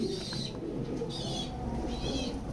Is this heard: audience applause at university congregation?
no